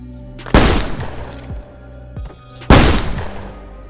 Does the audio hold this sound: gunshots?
yes